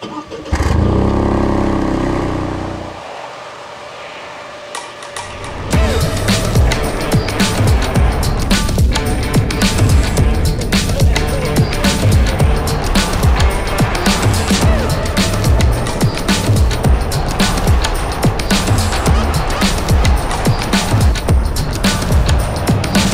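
Toyota GR Yaris engine, loud and close, a steady drone for the first few seconds, then a sudden dip, then hard, sustained driving with rough, gritty revving that carries to the end.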